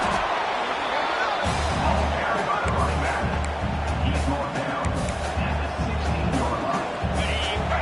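A large stadium crowd at a USF versus Miami football game roars and murmurs continuously, a dense wash of cheering voices with low rumbling thumps underneath.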